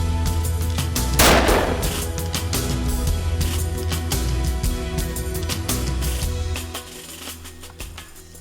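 A single loud, close gunshot fired at a blue grouse during a small-game hunt in British Columbia, a sharp crack followed by a long rolling echo that fades out over several seconds.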